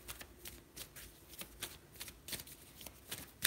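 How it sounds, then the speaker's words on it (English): Tarot cards being shuffled by hand in a quiet room, a soft rhythmic riffle of repeated papery slaps and flutters, close and fairly faint, alone without talk. "Let me shuffle"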